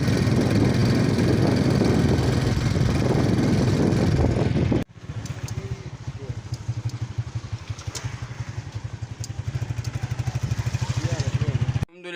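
A motorcycle engine runs on the way to a marriage hall, first as a loud dense roar, then after a sudden cut as a rapid, steady, close-up putter.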